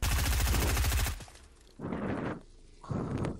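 Gunfire in Fortnite: a rapid automatic burst for about a second, then two shorter, more distant-sounding volleys separated by brief gaps of quieter ambience.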